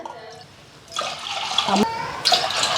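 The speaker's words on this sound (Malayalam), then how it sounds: "ഒരു ഗ്ലാസ് പാലിന് നാല് ഗ്ലാസ് വെള്ളം ഇതിൽ ചേർക്കുന്നുണ്ട്" Water pours into a pot of milk for cooking. A quiet start gives way to a steady, splashing pour that swells and briefly breaks before a fresh gush near the end.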